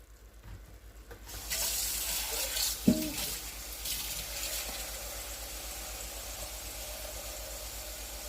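Water pours steadily into a pot with a continuous rushing splash, starting after a brief pause and running on at a fairly quiet level.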